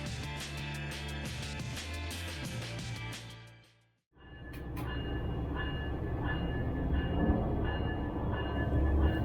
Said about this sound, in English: what it is like to go through the train wash from the locomotive cab